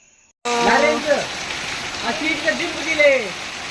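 Heavy rain pours down steadily in a hilly Malnad village, a loud continuous wash of water after a brief quiet start, with a person's voice talking over it.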